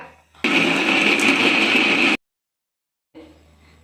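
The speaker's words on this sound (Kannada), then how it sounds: "ಇದಕ್ಕೊಂದು ಸ್ವಲ್ಪ ನೀರು ಹಾಕ್ಬಿಟ್ಟು ನೀರು ಸೇರಿಸ್ಬಿಟ್ಟು ಇವಾಗ ನುಣ್ಣಗೆ ರುಬ್ಕೊಳ್ಳಿ" A mixer grinder whirs loudly and steadily for about two seconds while grinding fish sambar masala with water, then cuts off abruptly; after a pause a fainter low hum resumes briefly.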